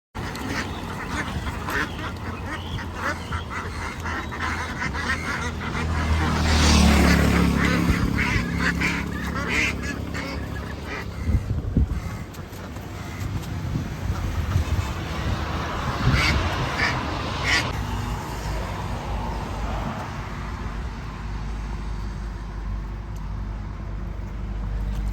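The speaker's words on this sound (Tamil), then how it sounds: "வாத்தெல்லாம் இருக்குது." Ducks quack steadily at a duck shop, several birds calling close by in a busy outdoor setting, with a louder burst of quacking early on and a constant background hum.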